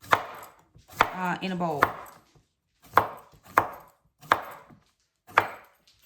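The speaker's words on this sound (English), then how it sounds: "So I'm just going to go ahead and slice up my cucumber and have it ready" A knife slices through cucumber in a bowl in a home kitchen, with crisp, separate cuts spaced about half a second to a second apart and a short stretch of talk near the start.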